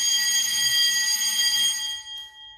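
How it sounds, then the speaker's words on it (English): A school lunchtime bell rings loudly and steadily with a bright metallic tone, then cuts off abruptly and fades away. "It's our lunchtime bell"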